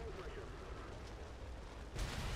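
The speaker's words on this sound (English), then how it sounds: "Oh, explosions." A P-61 Black Widow heavy fighter in War Thunder roars through a loud, continuous wash of explosion noise, with a fresh blast bursting in near the end as the aircraft burns from a fuel fire.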